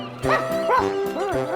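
A cartoon dog barking, three quick high-pitched yapping barks with a bouncy, rising-and-falling tone, clear and close in an animated story soundtrack.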